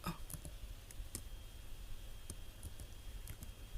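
Someone types code on a computer keyboard in quiet, scattered key clicks with irregular gaps, faint and close against a low background hum.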